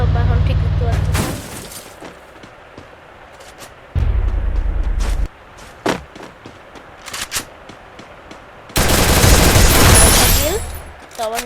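MP40 submachine gun fire in a shooting video game, with several loud rapid bursts separated by quieter gaps and a long burst near the end; a voice talks over the game sounds.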